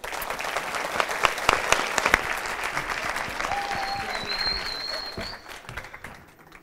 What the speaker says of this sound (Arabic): استاهل تصفيق